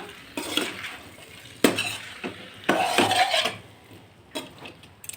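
Homemade noodles are stirred and mixed in a pan, with bursts of spatula scraping and clinking against the metal over a faint sizzle, close up and uneven in rhythm, no talk.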